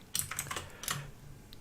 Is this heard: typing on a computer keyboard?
yes